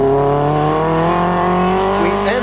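Rally car on a tarmac stage of the 1982 Cork 20 International Rally, its engine note sustained and loud, pitch sliding slowly as it holds revs, with a brief higher squeal near the end.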